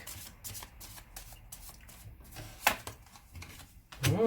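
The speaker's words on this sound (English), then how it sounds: "Let's get these cards on the deck." Tarot or oracle cards riffle and slap close by in quick repeated shuffles, then a few are flipped and laid down, with a brief sharp snap near the end.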